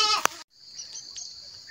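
A single short goat bleat sounds close by, followed by quiet with a faint high outdoor hum.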